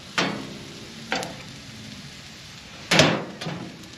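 Peas tipped into rice frying in a pan on a wood stove inside a winter hot tent, with several sharp clatters and scrapes of stirring over a steady soft sizzle.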